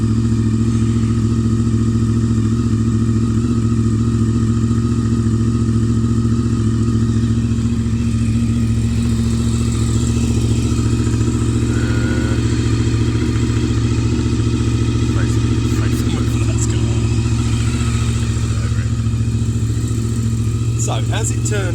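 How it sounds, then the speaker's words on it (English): A Honda VFR 750 motorcycle engine idles steadily and loudly throughout, a constant low rumble with occasional clattering and a voice speaking over it. "the whole point of this is that you can hear the engine"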